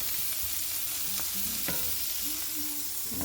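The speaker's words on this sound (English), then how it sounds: "Stir that in real good for a few minutes." A vegan spam mixture sizzles steadily in a frying pan while a utensil stirs it, with a couple of clicks and brief scrapes over the constant hiss, close and moderately loud, without talk.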